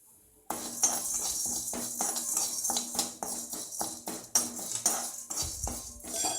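Spices for sambar powder are dry-roasted in a pan and turned with a metal spoon, giving rapid, close clinking and scraping strokes in an irregular rhythm, fairly quiet with no talk.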